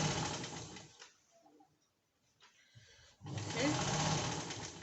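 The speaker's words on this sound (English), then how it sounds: "Then I'll continue sewing." A sewing machine stitching fabric whirs in a steady mechanical buzz, pauses for about two seconds of quiet, then resumes stitching at a similar close, moderate level.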